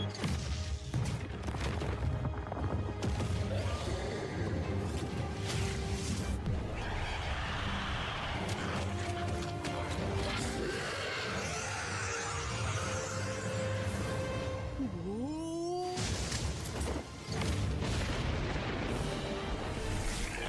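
Explosions and booming blasts from a watched video play continuously and loudly, with a dense rumbling low end and bursts layered over an ongoing mix of effects and tones.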